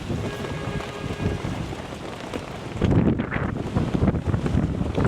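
Strong wind ahead of a typhoon buffets the microphone outdoors in Manila. It makes a steady, loud roar that grows rougher and gustier partway through, with no one speaking.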